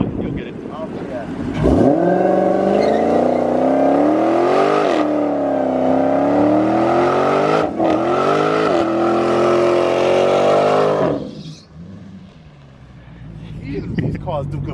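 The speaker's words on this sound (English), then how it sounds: "Now you can do your burnout." A 2020 Shelby GT500 or Dodge Hellcat Redeye does a burnout, the engine roaring loud and close with rising and falling revs over long sustained stretches before easing off near the end.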